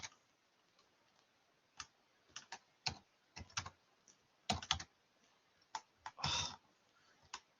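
Typing on a computer keyboard while entering an SQL query: irregular clusters of close, crisp keystrokes separated by short pauses, with no talking.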